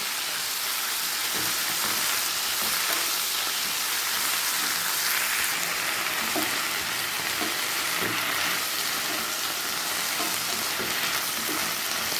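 Curry leaves fry in hot oil for a curry leaf chutney, a dense, steady crackling sizzle that stays loud and even throughout, with no voices.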